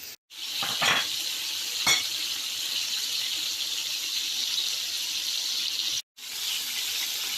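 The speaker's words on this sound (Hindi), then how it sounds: "और चिकन को ऑल टुगेदर 10 मिनट कुक करना है, 10 से 12 मिनट।" Chicken tikka pieces sizzle steadily in a hot pan, a continuous bright frying hiss with a couple of brief clatters, close and moderately loud, with no talking.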